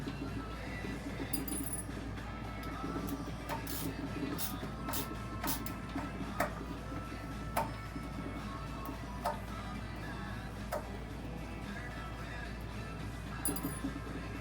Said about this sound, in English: I guess taking these screws out of this pickguard's probably, on a video, is probably like watching paint dry